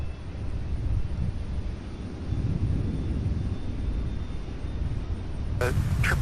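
A UPS Boeing 757 taxiing at Louisville airport gives a steady, broad jet rumble in the background with wind buffeting the microphone, ending in a brief sharper burst.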